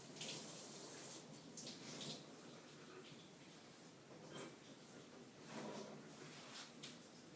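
Room-temperature water pours into a container while making birthday slime, a steady splashing pour at close range with short breaks, and faint talk alongside.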